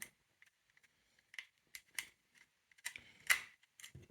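Small screw on a scaler wave machine being worked loose by hand, sparse quiet clicks and ticks in irregular bursts with near silence between.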